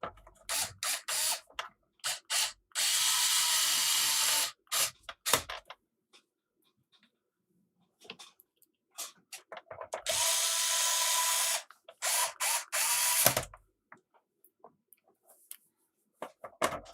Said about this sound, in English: And then we can put the screws back in there.